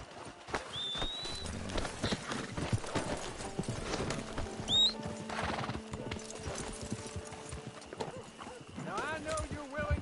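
Horse hooves clop steadily along in the video game Red Dead Redemption 2 over outdoor ambience, with a brief whinny and people talking in the background.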